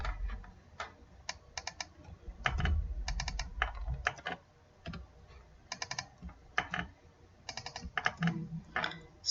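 Bursts of keyboard typing, clear and close, with irregular clusters of clicks separated by short pauses, recorded while a table in a Derby database is being edited; no one speaks.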